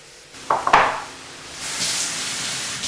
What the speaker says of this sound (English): I'm going to add some quinoa in there.